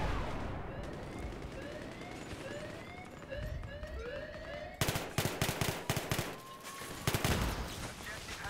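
An M60 machine gun fires in Battlefield 3: rapid bursts of loud, sharp gunfire break in partway through, over a steady noisy battlefield backdrop with sirens and chirping effects.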